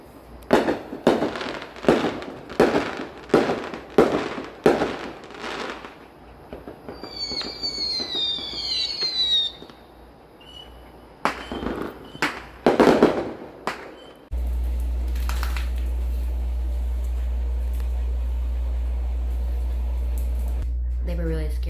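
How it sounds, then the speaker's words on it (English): Rapid fireworks pop over a beach in quick succession, then whistling rockets shriek and more loud bursts follow before a steady low hum takes over. "There were so many big and loud fireworks, they just couldn't handle it."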